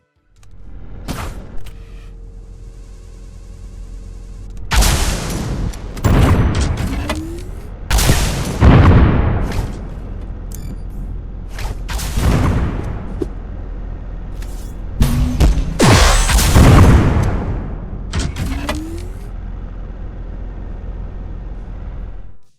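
Rocket launcher explosions in a first-person shooter game: a handful of loud, booming blasts at irregular intervals over about twenty seconds, each with a sharp attack and rumbling tail, with no talking.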